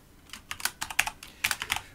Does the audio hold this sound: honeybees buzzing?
no